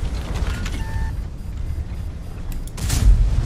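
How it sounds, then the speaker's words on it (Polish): A tank in a video game: mechanical creaking and clanking, then a heavy, close cannon boom bursts out near the end. "Oj, drugi nietrafiony strzał."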